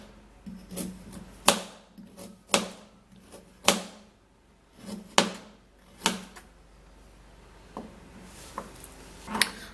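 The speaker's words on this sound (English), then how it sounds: "Now I will have to cut the carrot." Knife chopping a carrot on a cutting board, about a dozen sharp, separate chops with uneven gaps between them, close and fairly loud with quiet pauses in between.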